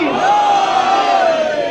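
A crowd at a religious celebration gathering roars back a loud, sustained collective shout in answer to a chanted slogan, many voices merging into one long swelling cry.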